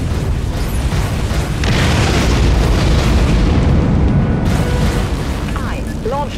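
A nuke launch explosion in the naval combat game Dreadnought: a loud, sustained roaring blast with deep rumble that fills the whole stretch, ending with a few faint synthetic chirps.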